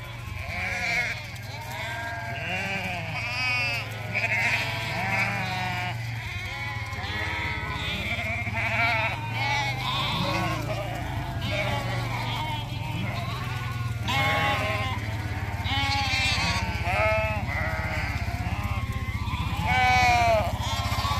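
Wet sheep and lambs in a paddock bleat continuously, many overlapping calls near and far forming a loud chorus over a low engine-like drone.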